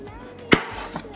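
A single sharp knife chop through octopus on a cutting board for ceviche, followed by a fainter second tap, close and clear.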